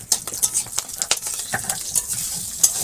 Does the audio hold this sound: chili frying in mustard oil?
yes